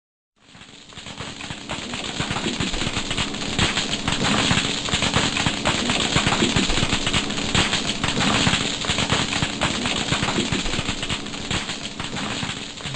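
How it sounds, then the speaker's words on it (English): Thousands of snapping shrimp snap their oversized claws underwater, a dense, continuous crackling like frying fat or distant fireworks that holds steady and loud throughout. "This is the sound of thousands of snapping shrimp."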